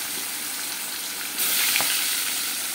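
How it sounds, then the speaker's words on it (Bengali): Pangasius fish with a little turmeric frying in hot oil in a wok, a steady crackling sizzle that swells louder midway as the pieces settle in. "তাই মাছটাকে এপিট ওপিট করে ভেজে নেব"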